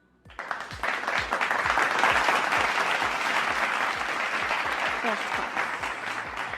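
Dense, steady applause from a crowd fills the whole stretch, many hands clapping together, loud and close after a brief quiet start, with no break in the clapping.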